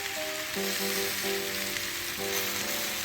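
A Normandy vegetable mix sizzles on a grill mat over a BBQ grill, a steady, even frying hiss close by with no voices.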